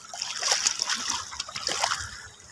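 Salty sea water splashes and sloshes close by at a beach in Bacnotan, a steady watery churning with brief splatters throughout.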